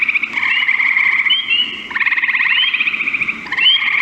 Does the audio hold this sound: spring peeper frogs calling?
yes